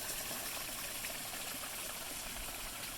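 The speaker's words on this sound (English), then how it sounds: "a little waterfall going on." A small waterfall pours into the hot spring pools at Lava Hot Springs, a steady, soft rushing wash of water with no voices.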